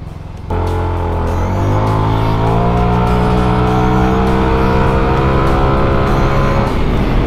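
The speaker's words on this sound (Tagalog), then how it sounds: "Damang-dama mo talaga yung arangkada kahit stock yung makina." A car with a stock engine revs hard under acceleration, a loud, close, continuous engine note that climbs steadily in pitch as the RPM rises before easing off near the end.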